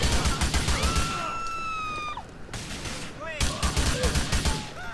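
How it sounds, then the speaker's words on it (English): Gunfire in the police-patrol mod LSPDFR for the game GTA V, with rapid bursts of shots early on and more scattered cracks later, mixed with whistling tones and other game sounds under a voice. "Somebody was shooting at me over here."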